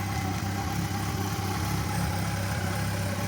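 A 2006 Yamaha FJR 1300 motorcycle with 48,000 km idles close by, its engine running in an even, continuous rumble with no talking.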